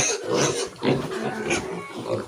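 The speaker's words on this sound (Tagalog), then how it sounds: "Ay, baboy." A pig on a backyard hog-raising farm gives loud, close, continuous grunts and snorts that rise and fall over a couple of seconds, with faint voices in the background.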